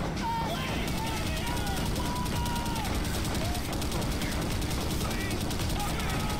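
Sustained gunfire in the video game Call of Duty: World at War, continuous rattling shots under loud background game noise, with voices and radio-like chatter mixed in throughout.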